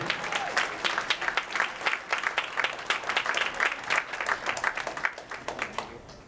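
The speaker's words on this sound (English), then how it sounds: "hand clap for Dr. Mason." An audience at a community education empowerment program claps for the speaker Dr. Mason, a sustained round of applause with distinct nearby hand claps over a crowd wash, fairly even and moderately loud for several seconds.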